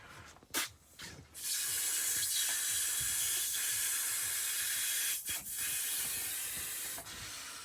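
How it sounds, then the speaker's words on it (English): A long, steady breathy exhale on a theatre stage, in a play called Breathe, sustained and fairly quiet with a few short breaths around it. "I breathe out."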